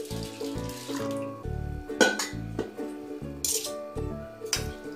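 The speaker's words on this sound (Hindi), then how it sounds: "अब हमें इसके अंदर पानी डालना है, हमें इसके अंदर इतना पानी डालना है इसे अच्छी तरीके से डूब जाए और ऊपर तक पानी रहे।" Water is poured over soaking chana dal in a bowl in a home kitchen, with short splashing bursts over steady background music.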